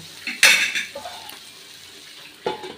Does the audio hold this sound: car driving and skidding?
no